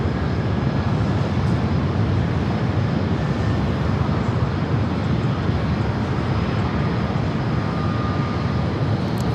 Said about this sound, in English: Have an American A321neo, number 2 for takeoff